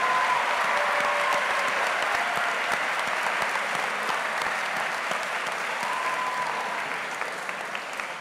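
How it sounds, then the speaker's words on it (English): A high school audience gives a long, steady round of applause for the Day Court, with dense clapping holding evenly for several seconds and then gradually fading toward the end. "Can I have a big round of applause for the 2018 Easton Area High School Day Court?"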